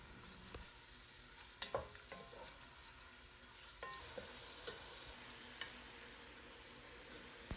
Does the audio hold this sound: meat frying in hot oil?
yes